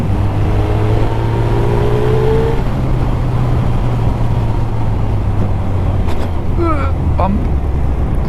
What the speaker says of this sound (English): The bike is running really f***ing well.